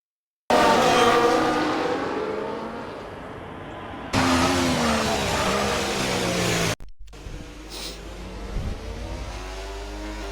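Race cars in a sim racing game at Bahrain, engines droning and revving loud and close, with abrupt cuts between cars and a lower, rougher engine note near the end.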